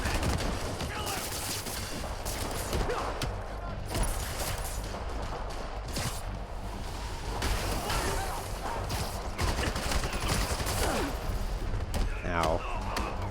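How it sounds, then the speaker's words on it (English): Assault rifle bursts ring out during a Marvel's Spider-Man Remastered battle, rapid volleys of gunfire mixed with game action and impacts, steady and loud, with voices talking over them. "Assault rifle."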